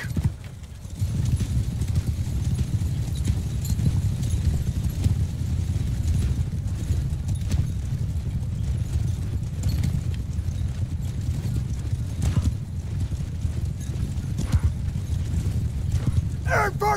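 Many cavalry hooves in a medieval strategy video game pound continuously in a dense, rumbling gallop, a steady mass of clip-clop with occasional sharper knocks and faint shouts in the mix.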